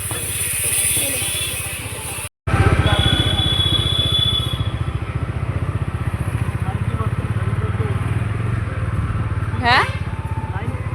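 A motorcycle out on a station road, its engine droning steadily and fairly loud throughout with a brief cut near the start, while people talk over it.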